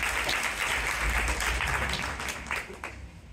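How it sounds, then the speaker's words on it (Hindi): An audience claps at a community gathering, dense steady applause from many hands that holds strong and then thins out toward the close. "तालियां बजा दी है"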